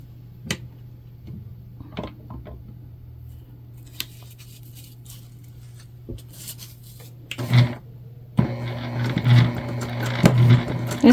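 A sewing machine back stitching a bucket bag, with quiet handling and snipping sounds before the motor starts near the end, then a short run of busy stitching with brief stops and restarts.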